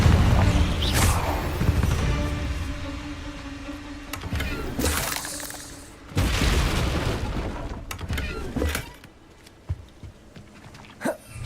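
Magical blasts from the Confringo fire spell in Hogwarts Legacy, several loud booming bursts spread across the stretch, with splashy, crackling tails and game ambience between them.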